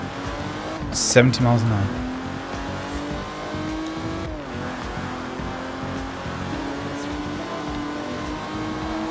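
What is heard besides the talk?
Aston Martin DB5 car driving in video game Forza Horizon 4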